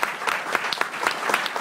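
An audience claps steadily, a dense, even wash of many hands applauding throughout with no voices standing out.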